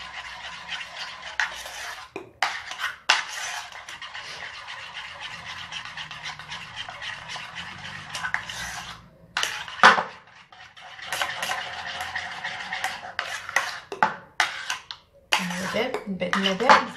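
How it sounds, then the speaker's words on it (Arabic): A utensil stirs chocolate into hot cream in a pot, giving repeated scraping and clinking strokes against the metal, close and continuous with brief pauses, while someone talks. "وبقا نحرك فيها حتى تذوب"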